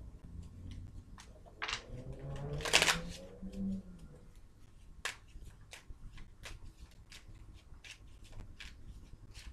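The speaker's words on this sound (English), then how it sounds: "Let's shuffle it." Tarot cards are shuffled by hand at close range, giving soft riffling and a run of sharp card snaps and taps, quiet and without talking.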